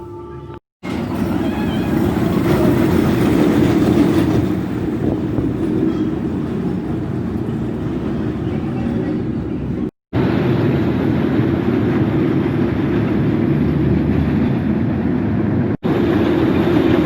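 The Vampire suspended roller coaster train at Chessington World of Adventures roaring past with a loud rumbling, clattering rush, cut by two brief dropouts, with faint voices nearby.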